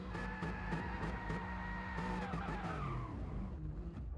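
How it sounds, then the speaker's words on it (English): A car does a burnout in the Gran Turismo racing video game, its engine howling under a sustained, loud tire squeal that runs for several seconds, then winds down and fades near the end. "Burnouts then for Fat Pickles."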